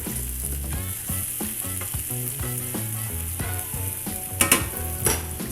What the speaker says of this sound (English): go ahead and add these green onions or scallions